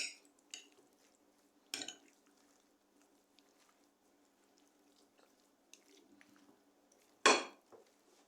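A spoon works through curry goat meat in a bowl, giving a few sparse, fairly close clinks and scrapes, the sharpest knock near the end, with long quiet gaps between.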